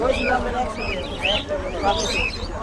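A flock of pigeons chirps and calls close by at a small outdoor pigeon market in Shimulia, Purbachal, with soft cooing mixed into the busy chatter of voices.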